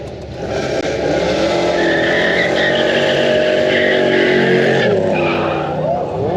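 Loud, sustained tire squeal from a car burnout at a MoPar car show, with a revving engine underneath, shrill screeching holding for several seconds with crowd noise faintly mixed in.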